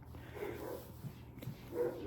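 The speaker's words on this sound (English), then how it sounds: "barking like crazy out there" Dog barking in the distance outdoors, a few muffled barks spaced apart over a low background rumble.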